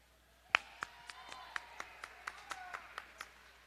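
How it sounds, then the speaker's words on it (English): Sparse hand claps at a Rose City Rollers roller derby bout, greeting the officials: a dozen or so separate, sharp claps, one louder near the start, then a steady thin patter over a quiet hall hum. "I would also like to give a big round of applause for the officials led by It Doesn't Matter and Extra Crispy"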